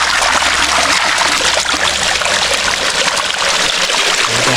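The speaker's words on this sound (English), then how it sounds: "Water flows and goes into the gorge." Cold spring water pours out of rock into a gorge at Hell's Gate National Park near Naivasha, Kenya, a loud, close, continuous rushing and splashing that runs unbroken throughout, with no talking.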